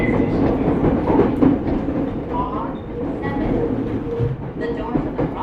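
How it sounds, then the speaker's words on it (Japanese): A Rinkai Line 70-000 series train runs between stations from Osaki toward Shin-Kiba, with a steady loud rumble of wheels on rails and a rhythmic clatter throughout. "This is a Rinkai Line train for 新木場。"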